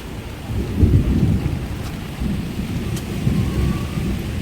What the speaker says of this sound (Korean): 천둥